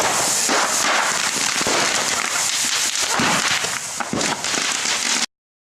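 Roughly $100 of explosives packed into a pile of six bone-dry Christmas trees for a New Year bonfire set off a loud, dense stream of crackling bangs and pops that keeps going without a break, then stops abruptly.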